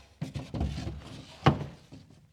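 A sauna component is set down inside a MyoSauna Classic, landing in a clear, close thunk after scattered lighter knocks and shuffling. A softer knock follows.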